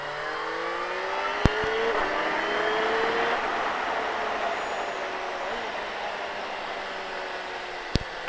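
A motorcycle on a race track, its engine droning steadily as the bike slows and rolls on, with rushing wind noise throughout and a couple of sharp clicks.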